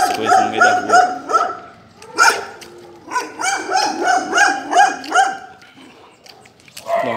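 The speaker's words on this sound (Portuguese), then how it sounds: "tinha muito cachorro latindo" Several dogs bark repeatedly nearby, in bursts of overlapping yaps and woofs with short pauses between.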